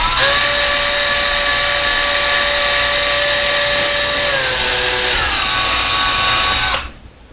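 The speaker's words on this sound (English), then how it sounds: "Okay, next we're going to drill the holes." A power drill whines steadily while boring holes for window blind brackets, a loud sustained tonal buzz that dips slightly in pitch under load before cutting off abruptly near the end.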